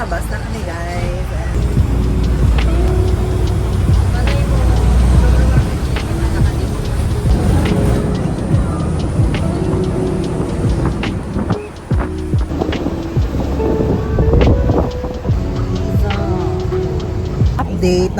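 Cabin noise aboard a bus, a steady low engine rumble with road noise and occasional rattles and ticks, while people chat casually throughout over the drone.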